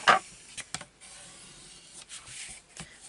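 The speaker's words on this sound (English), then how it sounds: "Start doing your burnishing." Short rubbing strokes, several in a row, come from a burnishing tool being drawn over scored paper to crease it for a double-pocket stamp storage holder. The sound is close, dry and fairly quiet, with brief pauses between strokes.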